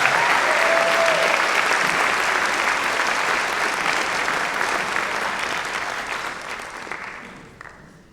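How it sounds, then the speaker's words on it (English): Sustained audience applause fills a hall at a scholarship night, a dense wash of clapping that starts loud and gradually tapers off toward the end. "So please, a special round of applause for Melissa and all the hard work."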